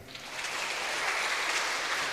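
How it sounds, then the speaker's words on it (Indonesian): A church congregation applauds during a sermon, a soft, steady wash of many hands clapping from some distance, with no voices. "Yang setuju berikan tepuk tangan."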